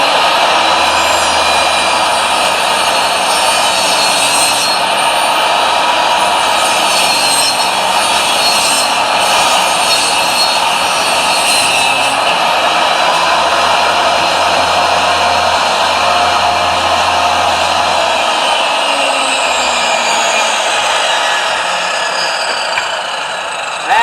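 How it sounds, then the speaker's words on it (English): A saw blade cuts scrap wood for shotgun stands, a steady, loud whine of motor and blade chewing through the board that runs unbroken for nearly the whole stretch, with no talking over it. "this blade takes out 1/8 of an inch of material"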